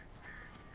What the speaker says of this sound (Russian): О, сколько там птиц-то